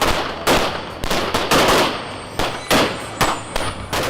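Gunfire in the streets of Port-au-Prince, Haiti: about a dozen sharp, loud reports in irregular bursts and single shots, some close together, with no voices.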